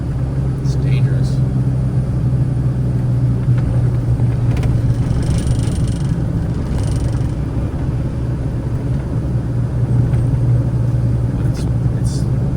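A car climbs a damaged, crumbling hillside road in fire-scarred Malibu, its engine rumbling low and steady the whole time beneath loud talk.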